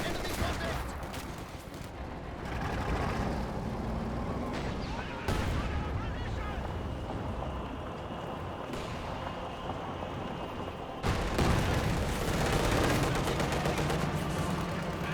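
British artillery barrage in Company of Heroes 2 battle, a dense, continuous roar of distant shell fire and gunfire, with loud bursts flaring up and crackling under steady noise; a voice talks over it.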